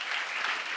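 Brief, steady burst of applause from a congregation at a church seminar, dense and even throughout with no voices over it.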